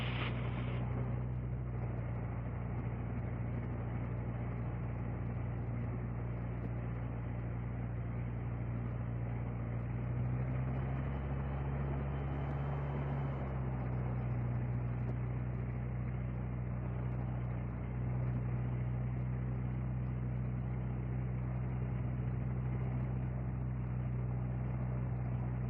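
A gyroplane's engine drones steadily while the aircraft taxis, a loud, constant hum with a low tonal whine and a brief swell midway, no voices over it.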